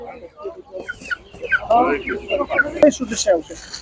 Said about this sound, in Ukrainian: Великий вибір курей. Різні кури.